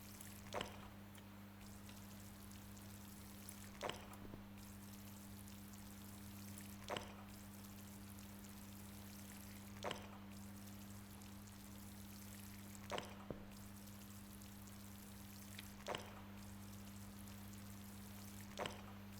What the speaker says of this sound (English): now the easy part, we just water these up.